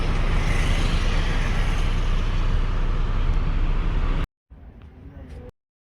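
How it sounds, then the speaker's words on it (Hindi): Road traffic rumbles loudly at Lingipur in Bhubaneswar, a dense wash of engine and road noise that cuts out abruptly and returns faintly for a moment with a voice. "लिंगीपुर ट्रैफिक"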